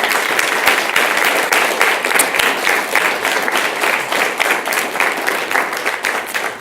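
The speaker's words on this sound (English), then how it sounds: "I'd like to have her stand so we can give her a big round of applause" A large room at a school governing board meeting fills with loud, sustained applause for an award winner, a dense continuous clatter of many hands with no break over several seconds.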